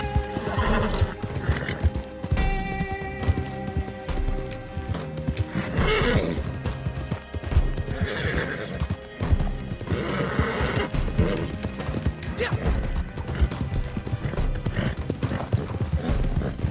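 A horse in Red Dead Redemption 2 whinnies several times over a steady clip-clop of hooves, with the game's sound effects continuing throughout.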